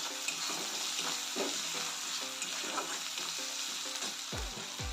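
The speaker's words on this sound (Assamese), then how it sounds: "আদা নহৰু পেষ্ট, এইখিনি মই লৰাই দিছোঁ" Ginger garlic paste stir-fried in a pan for a ridge gourd curry, a steady close sizzle of frying with soft scraping and stirring strokes throughout and no voices.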